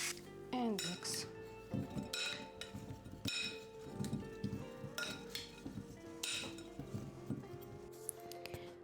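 Seasoning with dried dill and pepper mixed in a bowl, with repeated sharp clinks and scrapes of a utensil against the bowl in an irregular rhythm, close and clear, with a voice speaking at moments.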